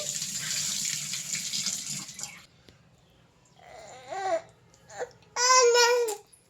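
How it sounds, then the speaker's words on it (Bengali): A guava is washed under a running kitchen tap, with water splashing steadily for about two seconds, then stopping; short bursts of babbling and crying follow near the end. "তো পেয়ারাটা এখন ভালো করে ধুয়ে নিচ্ছি।"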